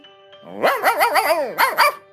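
A dog barks in a quick series of loud, close yips and barks, a burst of about six followed by two more after a brief pause, with no talking.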